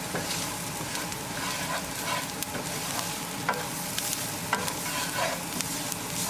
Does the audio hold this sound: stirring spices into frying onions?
yes